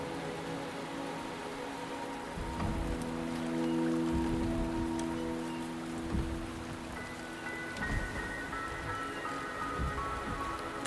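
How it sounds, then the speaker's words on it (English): Steady rain falls in the video game Wuthering Waves, a soft continuous patter with occasional heavier drips and faint low rumbles, moderately quiet and steady throughout with no voices. "The rain is subsiding, and the sky will soon clear."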